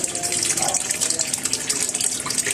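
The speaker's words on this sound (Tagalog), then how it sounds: "piniprepare ko na yung tubig para mapuno" Tap water gushes steadily into a tub being filled for doing laundry, a continuous loud splashing stream with no pauses.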